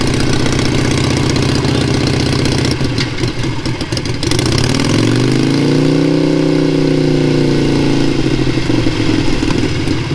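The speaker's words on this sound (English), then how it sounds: "So you feel it bogging, you need to downshift." A manual-transmission car engine laboring and bogging at low revs before a downshift, a loud continuous rumbling drone whose pitch sags and then swells again, close up and without talking.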